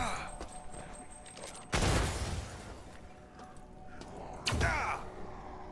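Grenade blasts in the game System Shock (2023), two heavy booming explosions a few seconds apart, loud and close, set against low in-game ambience with a voice talking in the background.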